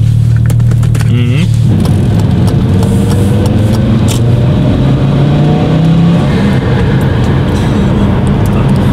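A short-wheelbase car's engine runs loud and close while driving, its tone rising and falling with revs, with a person talking over it.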